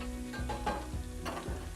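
Sausage sizzling and frying on a Hasty Bake charcoal grill, a quiet steady crackle with a few soft stirring or shifting noises.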